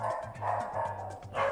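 A pet dog barks and yips in repeated bursts, loud and close, with excited voices around it during a lively evening gaming session at home.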